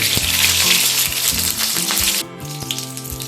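Eggs frying lightly in white oil in a kadai, a steady close sizzle with scattered pops and small clinks of a utensil, easing off slightly near the end.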